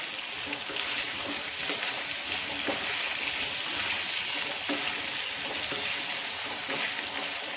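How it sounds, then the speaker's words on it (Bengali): Pieces of taro (arbi) fry in ghee in a pan over a medium gas flame, giving a steady, close, even sizzle that continues without a break. "গ্যাসের ফ্লেমটা মিডিয়াম করে রেখে এই গাঠি কচুগুলোকে ঘিয়ের সঙ্গে হালকা গোল্ডেন করে ভেজে নিতে হবে।"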